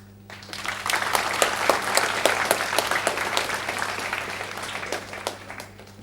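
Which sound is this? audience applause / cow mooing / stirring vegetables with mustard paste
audience applause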